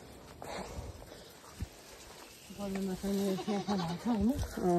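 Goats bleating near the listener, with a few sharp, wavering calls rising over faint background noise in the second half, after a quieter stretch with a soft thump.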